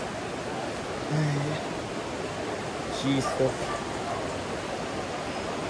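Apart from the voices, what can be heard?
rushing floodwater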